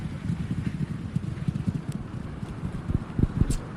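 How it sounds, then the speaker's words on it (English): Racehorses gallop in a muffled, steady drumming of hooves at the finish of the Irish 2,000 Guineas flat race, heard at a distance with crowd and wind noise behind. "it's Joe Lyons' push button Siskin who's drawing away to land the first ever classic for Colin Keane and Joe Lyons."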